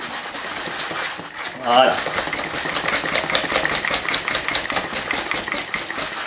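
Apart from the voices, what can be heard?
mixing Genoa bread batter with eggs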